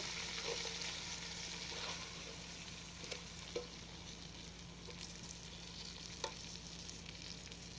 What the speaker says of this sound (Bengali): এই চাউল হালকা করে ভাজা হবে।